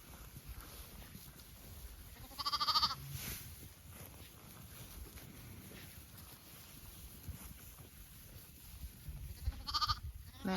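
Young lambs bleat outdoors in winter, two short wavering calls several seconds apart over a steady background of wind and rustling, moderately distant and fairly faint.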